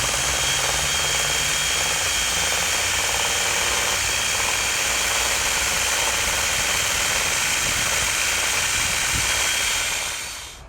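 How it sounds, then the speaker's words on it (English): Power tool with a cutting wheel run along a fine crack in a wall to open it up, a loud continuous harsh grinding whine held steady for about ten seconds before winding down at the end. "They gently work the wheel down the crack"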